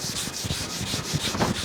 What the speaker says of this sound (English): And here you go, you're supposed to scrape away.